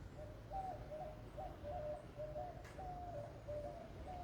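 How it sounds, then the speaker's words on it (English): Birds call repeatedly along a wooded trail, a steady run of soft cooing, dove-like notes over low outdoor rumble, moderately distant and faint. "We hear the birds chirping."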